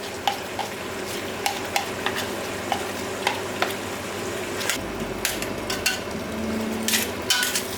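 Curry paste and chilies sizzling in a frying pan, stirred with a utensil that taps the pan in a loose, repeated rhythm over a constant background fry.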